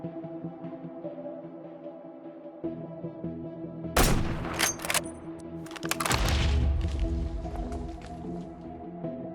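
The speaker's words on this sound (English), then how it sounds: "Well, my cabin is being shelled." RPG shells slamming into a cabin in modded Minecraft, two loud explosive impacts a couple of seconds apart over a steady humming game background, the second followed by a deep rumbling roar.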